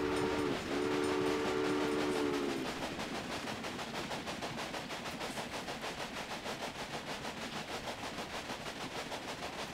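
A steam train in the Railway Empire video game sounds a long whistle, then chugs on in a steady rhythmic beat, loud and close.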